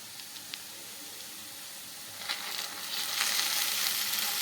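Beetroot halwa cooks in a pan with milk, giving a soft, steady sizzle that swells louder and brighter about halfway through as it is stirred, with no voices.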